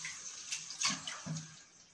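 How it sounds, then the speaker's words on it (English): Fresh water from a tap running into a bathroom sink, a faint hiss with a few brief splashes and gurgles, quiet and close. "I'm just gonna put some fresh water in the sink so I can use it"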